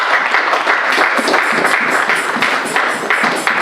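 A church congregation breaks into dense, lively applause to acclaim the Lord, many hands clapping together in a close, steady patter with no voices over it.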